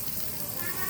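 Chopped onion sizzling gently in a pan over low heat, a steady soft crackle and hiss that stays even and unbroken throughout.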